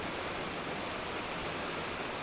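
Steady rushing water from a small waterfall over a weir on Stock Ghyll stream near Ambleside under trees, a constant broadband hiss close by with no pauses.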